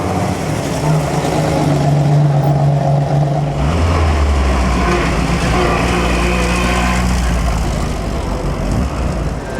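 Two Italian cars coming down a street during the 2008 Mille Miglia, an Alfa Romeo alongside an Italian police car, with loud, steady engine drone that rises in pitch midway as one car accelerates close by.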